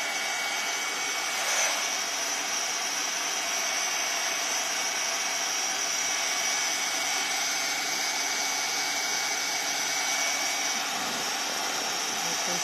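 A drying tool blows steadily across a wet watercolor painting of birch trees, a loud, continuous broadband whoosh with a faint high whine that holds for the whole stretch.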